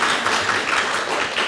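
Audience applause at an art lecture, a steady broadband wash of clapping from a crowd that holds evenly across the moment without any talk over it.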